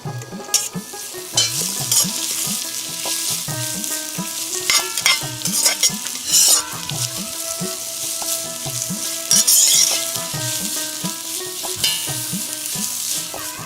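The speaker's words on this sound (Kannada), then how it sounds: "ಇನ್ನೀಗ ತುಪ್ಪ ಹಾಕಿ ಒಂದು ಬಾಣಲೆಯಲ್ಲಿ ಈಗ ಕೊಚ್ಚಿದಂಥ ನೀರುಳ್ಳಿಯನ್ನು ಒಳ್ಳೆ ಕೆಂಪಾಗಿ ಹುರಿಬೇಕು." Chopped onions fry in ghee in a pan for Kashmiri pulao, a steady close sizzle throughout with repeated rhythmic stirring scrapes and spoon knocks against the metal.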